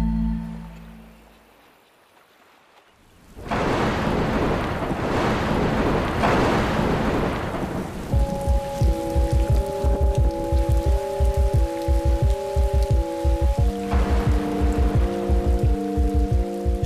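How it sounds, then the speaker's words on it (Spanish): Steady rain pours loudly outdoors, a dense hiss that swells in after a brief quiet and continues under a rhythmic musical pulse and melody, with no distinct thunder rolls. "Llueve. Llueve en el campo y en la ciudad."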